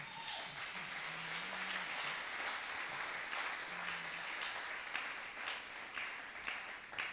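Church congregation applauding and acclaiming the Lord, a dense, steady wash of clapping with a few faint sung or shouted tones running underneath.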